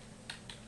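Two quiet, isolated key clicks on a computer keyboard during a software demo on a MorphOS system, spaced about a fifth of a second apart over a faint hiss.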